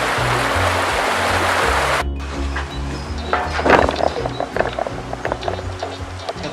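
A mountain stream runs in a steady broadband rush that cuts off sharply at two seconds, then continues as softer trickling water with scattered small knocks and rustles.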